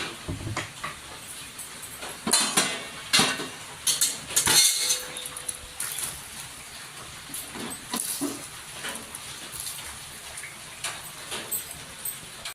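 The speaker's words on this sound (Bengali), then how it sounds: "এখন আমি ঢাকনাটাকে খুলে দেখব।" Metal pot lid lifted off a pan of Basanti pulao cooking on a low gas flame, a few light clanks and scrapes of metal against metal, close and fairly quiet in a calm kitchen.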